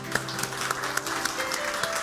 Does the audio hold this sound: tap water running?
no